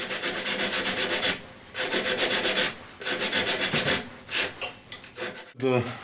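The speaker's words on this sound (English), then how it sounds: "Use sandpaper, use whatever you can to clean this up" Sandpaper rubbed against a spinning woodturned piece on a lathe, giving repeated rhythmic rasping strokes in close, loud bursts separated by brief pauses.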